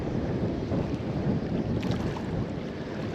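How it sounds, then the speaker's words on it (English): Steady wind gusts across a lagoon during a fishing trip, a continuous broadband rush, close and fairly loud, like buffeting on a microphone, with no talk. "God, the wind right in my face"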